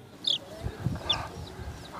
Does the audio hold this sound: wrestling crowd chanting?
no